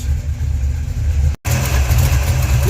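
A project car engine idles for the first time since 1999, a loud steady low rumble that cuts out for a brief instant midway and then resumes just as strongly.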